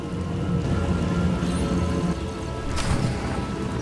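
Steady rain pours in a stormy scene in the SWTOR video game, a loud continuous hiss with a low rumble of thunder swelling near the end.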